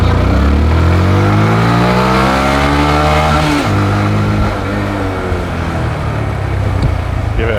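A Honda Grom motorcycle revved hard under full throttle while riding in Thailand, engine pitch climbing through rising gears with a brief dip at a shift, then holding loud and close amid wind rush.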